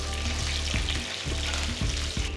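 Slit green chillies and dried red chillies sizzle steadily in hot tempering oil with spluttered mustard and cumin seeds, alone and close, with a few soft stirring scrapes in between.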